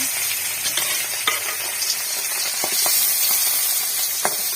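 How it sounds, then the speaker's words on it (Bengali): Fish rubbed with turmeric and chilli fries in hot oil with a steady, close sizzle, broken by scattered sharp pops and crackles throughout. "মাছ ভাজবো মাছটা হলুদ মরিচদের মাখায় রাখছি গরম হয়ে গেছে"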